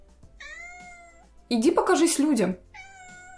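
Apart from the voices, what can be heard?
cat meowing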